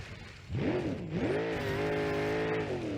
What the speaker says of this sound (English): that's the frame bottoming out.